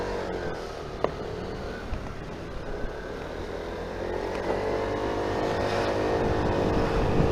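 An Aprilia SR GT 125 scooter pulls away and accelerates, its engine note rising steadily from a low hum to a stronger drone, close by, over rushing wind and road noise.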